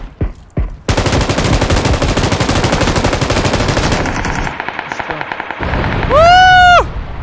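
Rapid automatic gunfire in a first-person battle royale shooter, a loud sustained burst of close shots after a couple of single cracks, followed by quieter activity and a rising whistling effect near the end.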